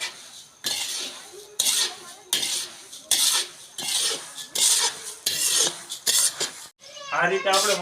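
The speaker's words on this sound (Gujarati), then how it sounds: "આ રીતે આપણે મમરાને શેકી લેવું।" Puffed rice is stirred while roasting in a pan, giving repeated scraping, rustling bursts with a few metallic clinks, close and fairly loud, and a brief voice near the end.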